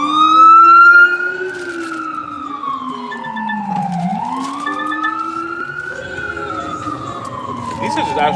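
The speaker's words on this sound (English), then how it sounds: "Yo, here come the ambulance with an emergency." An ambulance siren on an emergency call in New York City wails loudly and close by, its pitch sweeping slowly up and down over several cycles, with a brief louder burst at the start.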